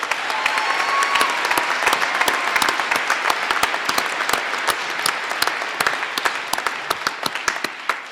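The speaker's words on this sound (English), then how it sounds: "Let's give her one more round of applause." A winter university commencement crowd applauds after a speech, dense and sustained clapping from many hands with sharp nearby claps standing out.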